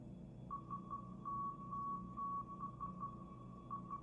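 A faint, steady-pitched Morse code tone plays in a concept trailer. Short and long beeps form an irregular dot-dash pattern over a low background rumble.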